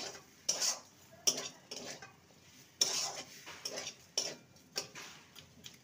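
A spoon stirs and mixes a sweetened vegetable chop mixture, making quiet, irregular scraping and clinking strokes against the bowl, close by and with no talk.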